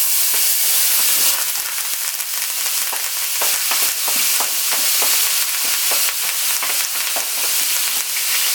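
Seasoning dropped into the hot oil of the pot used to fry fish for Jamaican brown stew fish, bursting into loud, close, continuous sizzling and crackling with stirring.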